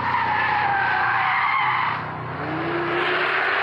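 An Alpine A110 gendarmerie car with a 252-horsepower engine is driven hard on a circuit, tires squealing loudly in a long skid while the engine drones close by.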